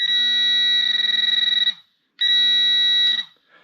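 A pinpointer metal detector, detecting a zinc penny, sounds a steady electronic beeping alert tone twice, each lasting over a second with a short gap between, loud and close with no voices.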